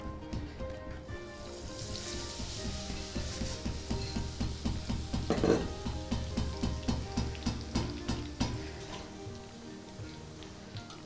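Boondi batter drips into hot ghee for motichoor ladoo, producing a steady bubbling sizzle with a fast, regular tapping pulse as the batter is pressed through, swelling in the middle and then fading.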